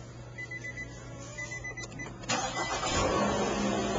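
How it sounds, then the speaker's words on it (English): Car engine started indoors with a push-button ignition: a low hum and faint beeps, then a sudden crank at about two seconds as the engine catches and settles into a steady, louder idle. "you can put your foot on the brake, press it one time, the vehicle cranks right up"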